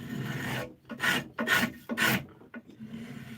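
A sharp blade draws fine shavings off a small ash offcut in several short, crisp scraping strokes, each a brief rasping swish separated by short pauses, close up.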